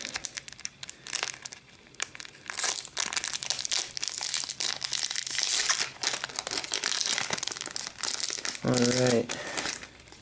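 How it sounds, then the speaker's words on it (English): A pack of hockey cards is torn open, its foil wrapper crinkling and crackling loudly up close for several seconds, with a brief spoken word near the end. "Let's open up pack number two here."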